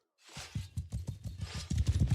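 Steady clip-clop of cavalry horse hooves trotting in the Warhammer video game The Old Realms, a regular rhythm of hoofbeats close by, growing slightly louder and faster toward the end, with no talking.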